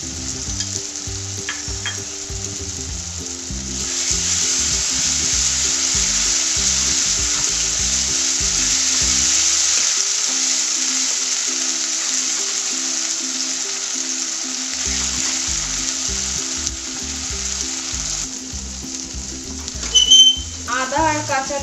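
Ginger paste and green chili paste sizzle steadily in a hot pan, a loud continuous frying hiss with a brief near-silent lull midway, plus a few soft stirring knocks near the end.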